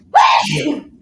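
A single loud, close sneeze, a sharp burst that trails off into a brief voiced exhale.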